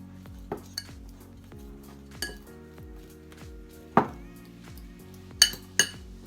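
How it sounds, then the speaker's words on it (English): Utensils scrape and clink against a bowl as ingredients and chopped onions are mixed for Italian stuffed peppers, with several sharp metallic knocks spaced irregularly over a low, steady background. "And then I'm going to mix those ingredients out."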